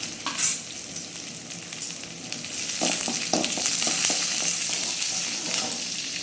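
Whole cardamom pods, star anise, cloves and a cinnamon stick sizzle in hot oil for a peas kurma, with a sharp crackle on entry and then steady frying under a run of spoon scrapes and clinks.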